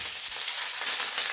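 Green chillies and spices hit hot oil in a pan with a loud, dense, continuous hiss and crackle that stays even from start to finish, with no voices.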